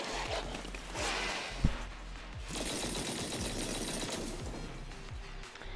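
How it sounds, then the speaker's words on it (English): A mech in the Zenless Zone Zero video game unleashes a hail of bullets, heard as dense, continuous rapid gunfire with one sharp louder crack near the start, sustained and loud throughout. "A fierce hail of bullets hit the helpless enemies who failed to find cover"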